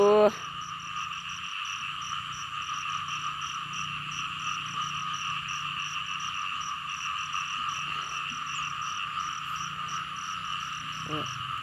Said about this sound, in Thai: ฟังเสียงกบเสียงเขียดพี่น้อง